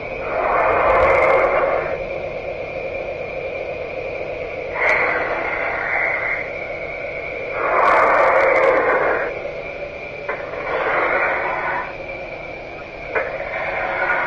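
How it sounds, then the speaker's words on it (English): An Iron Man Repulsor Power toy figure plays electronic thruster effects as it is moved: repeated loud whooshing bursts that swell and fade over about fourteen seconds, with no talking. "now if you move him forward, you get the thruster sound."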